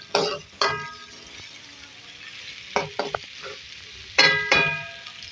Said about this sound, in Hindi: हमारी प्याज नाज़रीन नरम हो रही है।